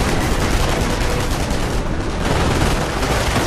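Dense, continuous gunfire and battle noise during an attack on a base in the World War II strategy game Company of Heroes, loud and steady with no clear gaps between shots.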